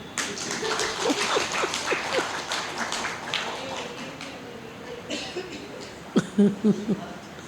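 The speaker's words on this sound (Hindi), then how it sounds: "ताली तो बजाओ।" An audience at a spiritual class claps along in a dense, continuous patter of applause at close range, with a few louder claps toward the end and voices mixed in.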